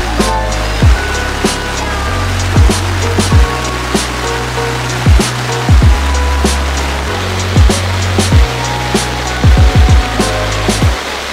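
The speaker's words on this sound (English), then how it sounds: "it's never stopped pouring down with rain" Heavy rain patters steadily on a surface at a caravan park campsite with a wash of noise, broken by repeated heavy thuds and drips, loud and close, no talking.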